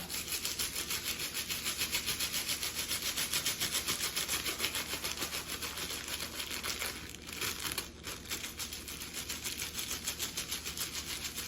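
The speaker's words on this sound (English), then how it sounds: "I'm gonna rub the crayons in between my hands for about a minute" Crayons rubbed between the hands make a continuous, close, fast rhythmic scraping and crinkling that stays steady throughout and briefly dips near the end.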